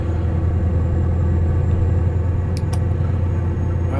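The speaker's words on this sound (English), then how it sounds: "This is a Scania V8" A Scania V8 770 truck engine in Euro Truck Simulator 2 drones with a loud, steady low rumble while cruising, constant and unbroken, with a couple of brief faint clicks and no talking.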